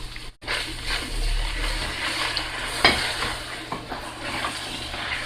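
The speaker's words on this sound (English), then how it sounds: "Now I'm going to go ahead and add my sauce." Sauce is poured and stirred into beef lasagna meat cooking in a pan on the stove, giving a steady close sizzle and scraping with a brief clatter partway through, and no talking.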